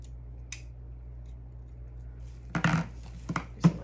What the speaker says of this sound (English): Cut off this piece really quickly.